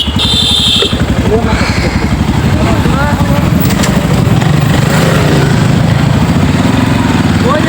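A motorcycle engine runs steadily with a throbbing, close drone throughout, while voices talk over it on a winter-morning ride with friends.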